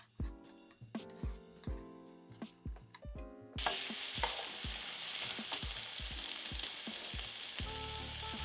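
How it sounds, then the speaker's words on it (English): Onions, peppers and other vegetables hit a skillet and sauté with a loud, continuous hiss that starts suddenly partway through, after a stretch of plucked, tonal knocking beforehand. "So I'm going to put all of these into my skillet and saute them for just a few minutes just to get them softened."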